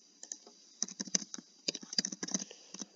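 Typing on a computer keyboard while logging into a website, heard as quick, close clusters of light plastic key clicks in irregular bursts with short pauses between, alone and fairly quiet.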